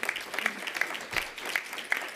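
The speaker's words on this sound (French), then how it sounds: "Oui, on peut l'applaudir, en effet." Light, scattered applause from a conference audience in a room, a few sparse claps at moderate distance over about two seconds.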